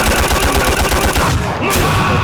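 Rapid stand barrage punches from a custom video game moveset hammer out in a fast, evenly spaced burst of loud impacts, ending in a brief heavier swoosh near the close.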